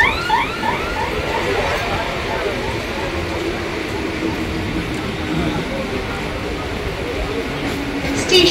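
A Sealdah–Ranaghat local train runs along the line with a steady, loud rumble and rhythmic wheel clatter that fills the whole stretch, with voices faintly present beneath the noise.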